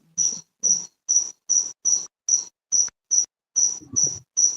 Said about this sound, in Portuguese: Prende esse grilo aí, viu?